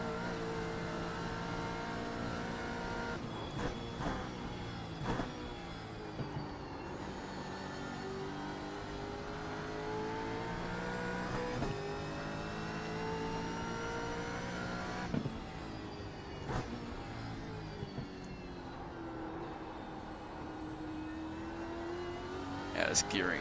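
A race car engine in iRacing, running long gearing, drones and climbs steadily through the revs with a few sharp gear shifts, loud and continuous, while a voice talks over it.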